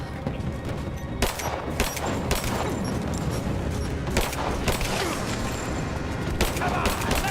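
Gunfire and explosions in the Tomb Raider video game, dense rapid bursts of shots and booms layered over a loud, continuous battle din, with shouting voices in the mix.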